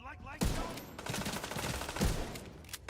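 A gunshot headshot in the video game The Division 2: a couple of sharp, loud shots ring out close by, with gunfire and game ambience continuing around them.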